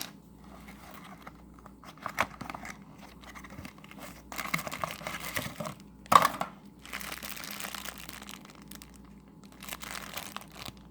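Plastic packaging tightly taped around a cheap 3S LiPo battery being torn open: crinkling, crunching and ripping come in bursts of varying loudness, with a sharp tearing peak midway and quieter rustling between.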